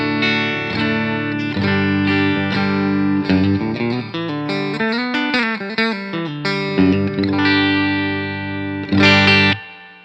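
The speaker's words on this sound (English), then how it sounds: "Here's my clean tone with the Telecaster." Clean Telecaster electric guitar played through a 1968 Fender Super Reverb amp miked with an SM57 and a Cascade Fathead, ringing sustained chords and melodic lines at close range with a brief pause mid-phrase and a bright strum near the end.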